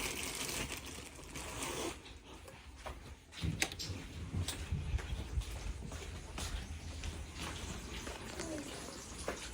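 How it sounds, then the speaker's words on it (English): Fish frying in a home kitchen pan pops and crackles in scattered sharp bursts over a steady sizzle, heard fairly quietly at close range. "That's my fish cooking, my fish popping."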